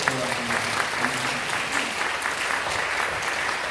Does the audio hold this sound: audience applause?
yes